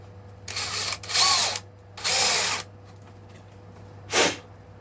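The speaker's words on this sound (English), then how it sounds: "the drill is actually come out there now, and you can see how well the jig works" An electric drill bores through a jig into the body of a late-1960s-style Stratocaster during a guitar build. It makes three loud bursts of whining drilling close by, with short pauses between them, and then a brief final burst.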